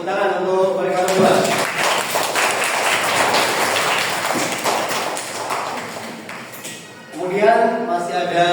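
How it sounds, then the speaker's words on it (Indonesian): A burst of applause from a class, dense steady clapping filling several seconds, with talking at the start and end. "Tepuk tangan untuk mereka berdua."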